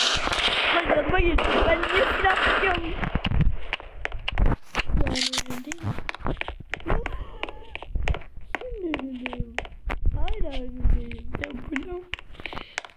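Video game gunfire crackles in rapid, sharp bursts throughout, loud and close, with excited voices talking over the shots.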